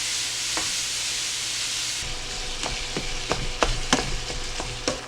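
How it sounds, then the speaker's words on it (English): Ground beef with onions and peppers frying in a skillet gives a steady, loud sizzle, and a utensil scrapes and taps against the pan several times as the food is stirred. "add your onions and peppers so they can soften up with the ground beef"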